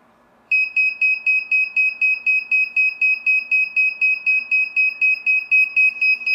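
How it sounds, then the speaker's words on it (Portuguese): A homemade digital timer circuit beeps when its countdown reaches zero, rapid, evenly spaced high-pitched pulses, loud and unbroken after a brief moment of silence, with no voices. "na hora que ele chega no zero, ele automaticamente trava e começa a apitar."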